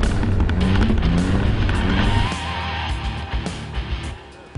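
A car engine built by Alan revs hard at full throttle, a loud rising roar with gear-like pitch sweeps that drops to a lower rumble midway and fades, no talk over it.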